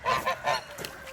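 Molting geese at a farm animal sanctuary give three quick honks in a row, moderately faint and close together, followed by a softer call.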